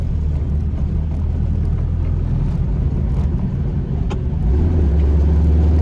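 A 1966 VW Fastback drives along with its engine droning low and steady from inside, road and wind noise constant, the engine note growing louder and deeper near the end.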